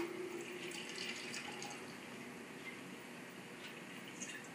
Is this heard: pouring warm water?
yes